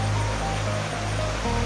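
Water flowing down into a waterfall at Seven Wells, Langkawi, a steady broadband rush of moving water with a faint low hum, constant and close throughout.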